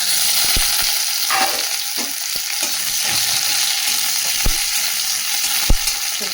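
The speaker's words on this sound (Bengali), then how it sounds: "পেঁয়াজটা ভাজা হোক।" Steady crackling sizzle of onions frying in hot oil with dried chillies, with a few sharp clinks and scrapes of a utensil stirring in the pan.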